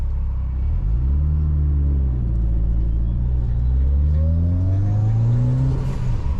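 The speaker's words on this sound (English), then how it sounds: "I'm just going easy, going through the gears." A Mitsubishi Evo 9 with a newly completed drivetrain is driven gently through its gears, the engine droning loud and close with pitch climbing, dropping at each shift, then climbing again.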